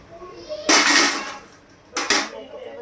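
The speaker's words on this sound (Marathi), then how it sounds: "कुकरचं झाकण बंद केलंय." A pressure cooker lid is set on and clamped shut in a kitchen while mutton biryani is prepared, giving two short bursts of metallic clanks, the first longer, the second a brief knock.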